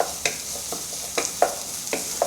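Ginger and garlic sizzle in hot oil in a stir-fry pan for a Cantonese chicken and onion dish, a soft steady hiss broken by several light scraping stirs, close and fairly quiet.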